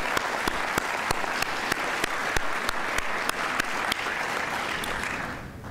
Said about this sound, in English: Please join me in a round of applause and thank us for these sponsors.